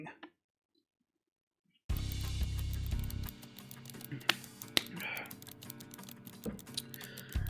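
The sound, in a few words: fingers typing on keyboard and pen scratching paper, from Limbus Company video game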